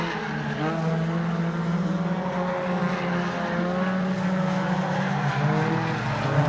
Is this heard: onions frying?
no